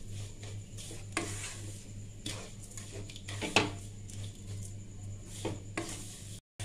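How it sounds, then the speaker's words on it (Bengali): Semai vermicelli with milk powder fries in a pan over low heat, with a faint sizzle under repeated scraping and clinking spatula strokes against the metal at an uneven rhythm. "গ্যাস গরম কম করে আমি খুব ভালো করে ভাজবো।"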